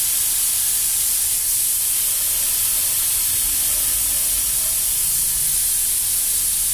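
Air escapes from a bicycle tire valve as the tire deflates, producing a loud, steady, close hiss that continues unbroken throughout.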